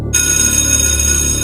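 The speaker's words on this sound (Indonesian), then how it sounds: "Setelah beres, bel masuk kelas pun berbunyi." School bell at an Indonesian senior high school signalling the start of class: a loud, sustained electronic ringing tone that starts abruptly and holds steady throughout, with no talk.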